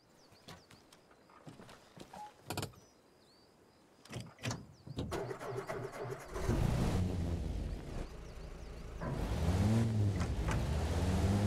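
A vehicle engine in the video game ARMA Reforger starts up after a few mechanical clicks and clunks, then settles into a loud, throbbing idle that swells as it revs.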